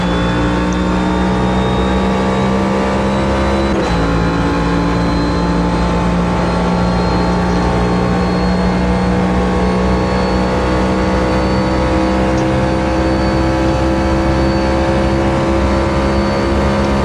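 A stock car engine in the racing game Automobilista 2 drones loudly and steadily at high revs, with a brief shift in pitch early on, sustained throughout without talk.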